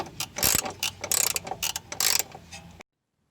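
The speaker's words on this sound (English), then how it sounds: "just crank this off" A ratchet wrench cranks a bolt loose during a BMW E90 M3 front control arm install, giving close, rapid bursts of clicking pawl strokes in quick rhythm that stop abruptly near the end.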